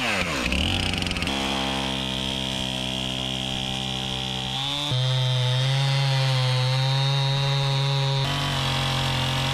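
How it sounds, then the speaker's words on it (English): A chainsaw drones loudly and steadily, its engine pitch shifting and dropping as it bites into an oak log, running close and uninterrupted. "we're cutting down perfectly straight with the chainsaw"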